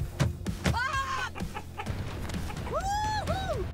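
Chickens cluck and squawk in a coop, several agitated calls close by with rising, drawn-out cries near the end over faint rustling and knocking.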